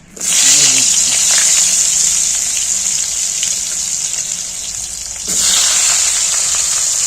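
Pointed gourd (potol) sizzles loudly in hot oil just after fish was fried, a steady dense hiss that briefly dips and then surges again as more pieces go in.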